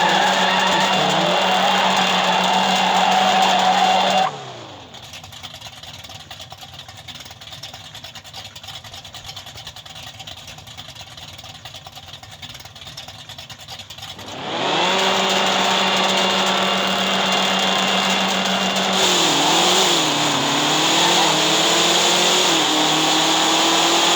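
Racing car engine in the off-road racing video game Gigabit Offroad, a loud steady drone that drops away for about ten seconds mid-clip, then returns with rising revs near the end.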